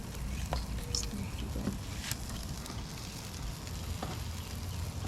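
T-bone steaks with grilled onions sizzle steadily on a grill, a continuous crackling fry with scattered pops, close but fairly quiet, with no talking.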